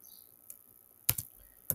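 A few sharp keystrokes on a computer keyboard as a Linux terminal command is typed, one faint tap followed by a quick pair and a last click in a quiet room.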